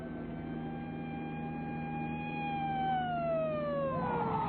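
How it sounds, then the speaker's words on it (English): A police car siren wails at moderate distance, its tone sweeping and then sliding downward as it winds down near the end, over a low steady hum. "we can't run away from a police car and a station wagon"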